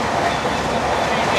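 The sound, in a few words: passenger train running at high speed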